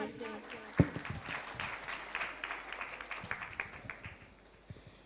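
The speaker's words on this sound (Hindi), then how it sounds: "आपकी भरपूर तालियों के साथ" Audience applause at a children's naat competition, a moderate wash of clapping that swells and fades over a few seconds, with scattered sharper claps and a murmur of voices in the hall.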